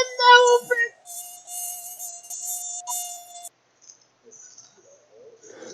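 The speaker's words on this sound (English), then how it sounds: "Mosquito." A mosquito buzzing sound effect, a thin steady high-pitched whine lasting about two and a half seconds, heard after a brief burst of a voice at the start and followed by faint scattered noises.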